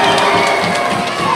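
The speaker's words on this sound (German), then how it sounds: "der erste Freiwurf geht daneben, Zuschauer jubeln." A youth basketball crowd cheers after a missed free throw in a playoff game, a dense continuous roar of shouting spectators filling the arena at full volume.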